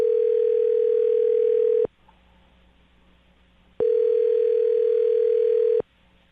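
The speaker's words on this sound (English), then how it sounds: "I'm going to dial the phone number right now." A telephone line tone sounds in steady two-second bursts separated by two-second silences, clear and loud through the handset before the call is answered.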